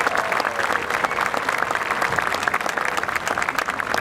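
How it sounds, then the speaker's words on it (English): An audience at a Boeing founders celebration night show applauds family members and friends, a lively, steady patter of many hands clapping at moderate distance throughout. "Let's give them a round of applause as well."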